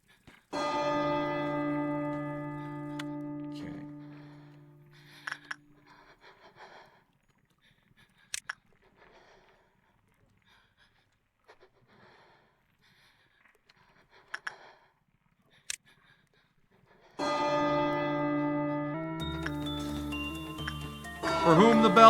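Church bell tolling in the game Lobotomy Corporation, a resonant ringing strike that decays slowly, then a long quiet gap with faint clicks, before a second toll returns near the end under rising music.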